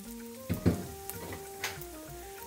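Cumin, curry leaves and turmeric hitting hot oil in a pan, giving a crackling sizzle with a sharp burst of spattering pops early on that settles into a quieter steady fry, heard alone without talk.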